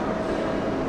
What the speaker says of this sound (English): And here's a shuttle train coming now.